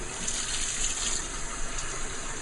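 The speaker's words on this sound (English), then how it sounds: "And then you pour out the water." Water pours steadily out of a fish bowl with a continuous splashing gush, close and fairly loud, with no voices.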